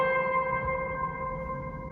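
A Nord keyboard sustains a soft held chord drenched in heavy hall reverb, sounding echoey and bell-like as it slowly fades.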